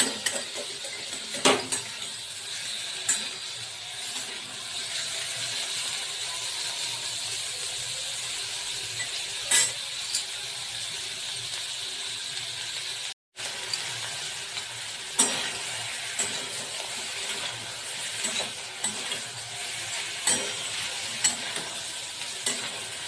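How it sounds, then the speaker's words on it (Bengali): Paneer frying lightly in a kadai with a steady soft sizzle, broken by scattered stirring scrapes and clinks of a spoon against the pan; a brief dropout midway. "একটু ভেজে নেবো, বেশি ভাজবো না"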